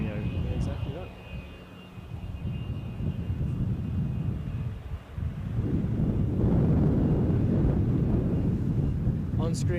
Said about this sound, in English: On screen right now is Scotland's finest Loganair.